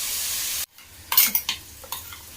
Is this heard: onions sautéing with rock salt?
yes